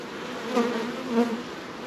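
Honey bees buzzing at an open home hive during a weekly check: a steady, close drone of many wings, gently swelling and fading, with no voices.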